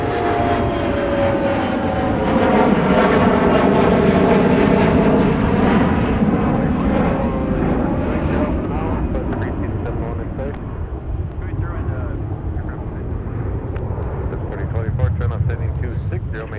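An airplane at Minneapolis-St. Paul International Airport roars loudly and continuously with a sweeping engine drone that slowly shifts in pitch and gradually eases, heard in the open with wind buffeting the microphone.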